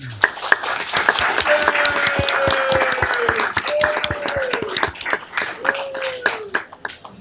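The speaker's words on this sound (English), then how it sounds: "Can we please give them a round of applause?" A council meeting audience applauds two police officers in attendance, dense clapping filling the room at steady volume with a few sharp nearby claps, while faint voices and a whistling tone run underneath.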